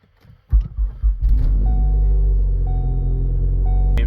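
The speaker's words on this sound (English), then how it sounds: "the idle is going to start at 1500 and then it drops down to 1100 and it smooths the misfires out" A Ford Focus ST with a custom Stratified flash tune cranks and catches after a short pause, then settles into a smooth, steady, close idle with a low, even hum.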